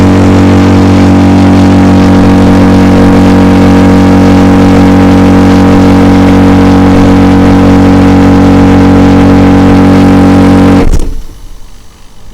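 A compressor filling a compressed air bottle for a Pioneer Airbow runs with a loud, steady droning hum and strong low tones, then cuts off abruptly near the end, leaving quiet.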